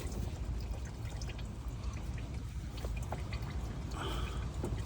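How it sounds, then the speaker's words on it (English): Engine oil pouring and dripping from the drain under a 2003-2007 Honda Accord, a steady close liquid rush with scattered drips over a dense broadband wash, no talking. "Oil is spilling down."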